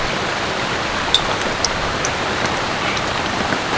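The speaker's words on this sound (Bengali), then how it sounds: "ওদিকে কিন্তু বৃষ্টি ঝমঝমিয়ে চলে এলো" Heavy rain pours outside as a dense, even hiss of water, loud and unbroken, with a few sharper drops tapping on surfaces and no voices.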